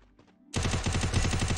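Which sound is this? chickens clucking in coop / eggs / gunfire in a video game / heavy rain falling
gunfire in a video game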